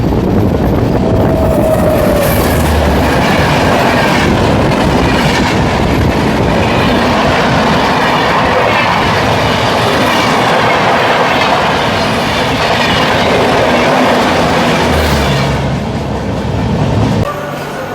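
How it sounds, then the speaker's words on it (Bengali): The Santragachi Pune Humsafar Express rushes past near Panskura Junction, a loud continuous roar of rail cars with rhythmic clickety-clack of wheels and occasional faint squeals, sustained throughout before easing slightly at the end. "ওই দিক থেকে চলে আসছে সাঁতরাগাছি পুনে হামসাফার এক্সপ্রেস"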